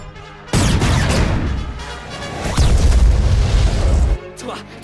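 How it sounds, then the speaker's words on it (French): A cartoon cannon fires with a loud, sustained booming blast and rumbling crash that fills several seconds, heavy and close, fading out at the end. "Canon avant, prêt à tirer."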